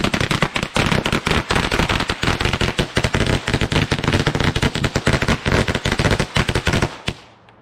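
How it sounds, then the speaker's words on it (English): Two 100-count strips of firecrackers set off together for the Fourth of July, a loud, dense, continuous crackle of rapid bangs lasting about seven seconds before cutting off abruptly. "How about 2 100 strips of firecrackers at the same time?"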